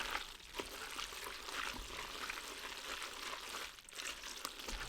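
Wet, thick sloshing and squelching of hot cheeseburger mac and cheese being stirred, a steady close-up churn of soft clicks and gloopy smacks with no talking.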